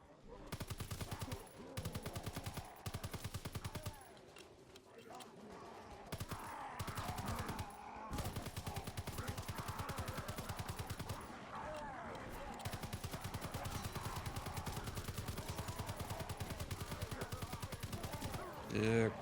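Heavy gunfire and cannon blasts from a Call of Duty battle on The Darkest Shore map, loud and sustained with rapid bursts throughout, a voice talking intermittently over the barrage.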